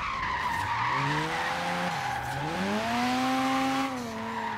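A Mazda RX-7 in the video game Forza Horizon 3 slides into a handbrake drift, tires squealing loudly and steadily over a rising and falling engine whine, close and uninterrupted.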